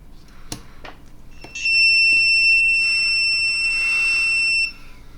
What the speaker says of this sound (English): Now if we turn the screw switch, we should get a bunch of beeps